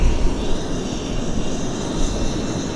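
An Air North Boeing 737-800 at Vancouver Airport, a steady broadband roar of jet engines heard at a distance, continuous and fairly loud with no talk.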